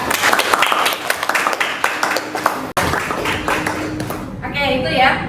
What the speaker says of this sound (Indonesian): Boleh tepuk tangan untuk Jessica.